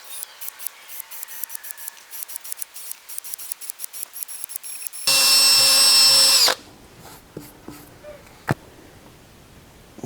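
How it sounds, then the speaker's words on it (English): A power drill bores holes during a tire repair, preceded by a rapid series of clicking, ratcheting taps, then a loud sustained high whine for about a second and a half, followed by a few scattered knocks and a sharp crack. "So we'll drill some holes."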